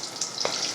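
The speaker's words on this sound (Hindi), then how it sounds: "अब हम इसमें ये जो कबाब बनाए थे इन्हें फ्राई करेंगे।" Beef masala kebabs with a yogurt filling going into hot oil give a steady close sizzle and crackle with a brief bubbling burst, alone without voices.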